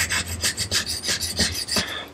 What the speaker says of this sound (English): if you're a new freehand sharpener, this won't be that tough of a knife to sharpen